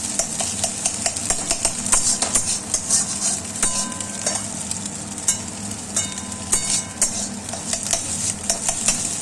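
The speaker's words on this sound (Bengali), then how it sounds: "ঠিক এইভাবেই নেড়ে চেড়ে ভুজিয়াটা বানিয়ে নিতে হবে।" Ridge gourd and potato bhujia is stirred and tossed in a hot frying pan. Frequent spatula scrapes and clinks sound over a continuous sizzle, close and fairly loud, with no talking.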